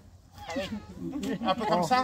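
A person imitates a cat's meow with drawn-out, rising and falling vocal cries, mixed with brief French speech, close and clear.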